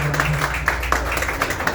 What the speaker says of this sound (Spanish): Denle un fuerte aplauso al Señor ahí donde está usted,